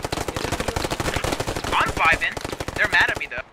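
A Thompson submachine gun fires in the video game Post Scriptum, rapid rhythmic automatic bursts, loud and near, with a couple of sharper overlapping shots mid-burst before it cuts off.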